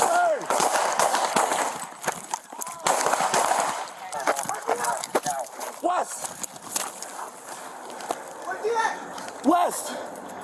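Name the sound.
gunfire exchanged between officer and suspect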